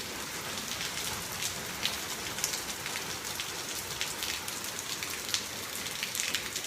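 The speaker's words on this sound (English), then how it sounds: "now it's raining harder." Heavy rain pours steadily onto a surface, a dense constant patter with occasional louder drops landing close by.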